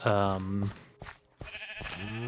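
A Minecraft sheep bleats in the farm game, a loud wavering cry near the start followed by a second bleat near the end, with a short quieter gap between them.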